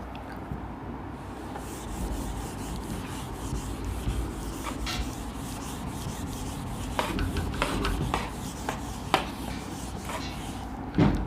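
Repeated rubbing strokes of an eraser wiping writing off a board during an economics lesson, a steady scraping rasp close by with a few sharper knocks toward the end.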